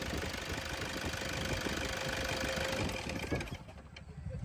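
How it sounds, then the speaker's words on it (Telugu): A 2013 Toyota Innova G eight-seater engine, in good condition, runs at a steady idle close to the microphone with a continuous mechanical hum, then cuts off near the end. "సింగిల్ సెల్ఫ్లో అయితే వెహికల్ స్టార్ట్ అవుతుంది"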